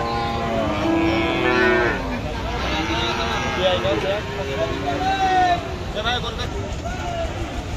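Thin, bony cows and heifers at the Chaugachha cattle market moo repeatedly, some calls close and drawn out, over a constant murmur of crowd voices.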